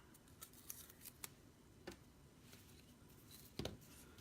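Scissors trim copper thread for a small gift box craft, giving several quiet separate snips spread out, with one sharper cut near the end, close to the microphone over a soft background hiss.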